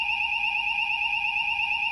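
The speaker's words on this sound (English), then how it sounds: "the fire alarm's gone off" A fire alarm sounds indoors with a continuous steady electronic tone, two sustained pitches held without break, loud and close, with no talk.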